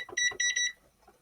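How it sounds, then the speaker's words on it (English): A kitchen timer on a home stove, set while baking salmon and tilapia, gives two or three quick, high, bright beeps close by, then falls quiet. "And let me turn the timer on."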